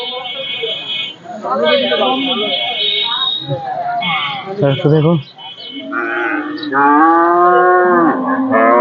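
Cattle moo loudly and repeatedly at a cattle market in Bangladesh, long drawn-out calls overlapping amid a noisy crowd with people talking close by.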